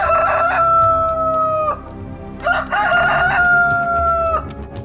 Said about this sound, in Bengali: মুরগির এই বিকট আওয়াজ শুনে বাঘটা পর্যন্ত ভয় পেয়ে গেল।